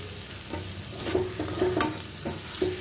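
Spiced potatoes for Kashmiri aloo dum sizzle steadily in a pan, with soft stirring scrapes and light crackles at close range and no talking.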